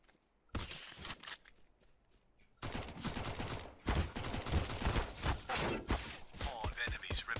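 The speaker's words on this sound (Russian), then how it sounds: "Я столько раз в него выстрелил." Rapid bursts of gunfire in the video game CS:GO crackle in dense volleys, with short pauses between clusters of shots, loud and close throughout.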